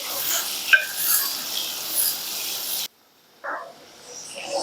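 Sliced onions fry in a pan for Andhra biryani, giving a steady sizzling hiss with stirring and scraping. The sound cuts out briefly near the end, then returns more faintly.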